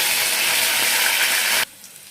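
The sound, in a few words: tempering with mustard seeds, garlic, cumin and curry leaves frying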